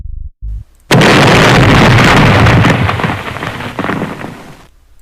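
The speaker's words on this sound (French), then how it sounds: "une violente explosion ébranlait le grand magasin" A sudden loud explosive blast shakes a department store after a brief pause, then rumbles and crackles on for several seconds before cutting off.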